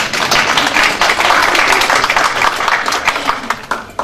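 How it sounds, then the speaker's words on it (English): Applause from attendees at a city council meeting, a dense, steady patter of clapping lasting about four seconds, with some murmuring voices mixed in. "You can clap."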